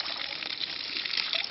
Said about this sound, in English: all the water from the inner bucket comes out